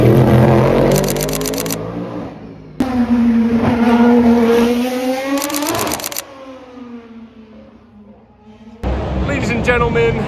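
Race cars at speed during IMSA free practice at the Detroit Grand Prix street circuit, engines roaring and whining past in loud bursts with rising and falling pitch, near and overlapping, separated by quieter engine noise.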